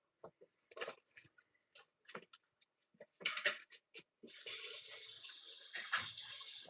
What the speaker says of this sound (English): I'll rinse it off actually.